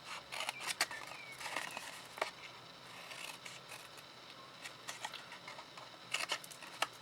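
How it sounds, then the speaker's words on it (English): Scissors snipping through card while making a small Lindor-shaped box, a quiet run of crisp clicks and slides in short bursts with pauses between cuts. "Leave that piece complete and then cut away these two"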